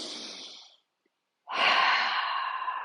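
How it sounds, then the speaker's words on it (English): Strong, deliberate breaths in through the nose and out through the mouth, faster than normal during a breathing exercise: one long exhale fades into a brief pause, then a loud, close rush of breath follows. "Breathing a little faster than normal"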